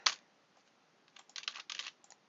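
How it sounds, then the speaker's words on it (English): Quiet keyboard typing: a single tap, a pause, then a quick run of clustered keystrokes close by. "I'm just typing in random stuff here,"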